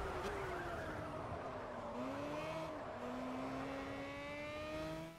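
A race car engine in Project CARS, a loud continuous whine rising and dipping as it shifts through gears and accelerates, steady and close throughout.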